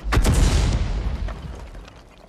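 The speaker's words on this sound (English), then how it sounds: "He fires a round out. It hits the house." Tank cannon fired in a tank video game, the round striking a house: one loud, deep boom with a sharp crack at the start, then a long rumbling tail that fades away over about two seconds.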